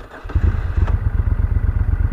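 A Moto Guzzi Griso 1200 SE motorcycle engine cranks and fires up, then settles into a loud, close, steady lumpy idle with a rhythmic low pulse.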